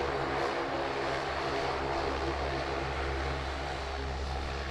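A Link Airways turboprop plane at Sydney Airport gives off a steady propeller and engine drone, a continuous low hum heard from a moderate distance.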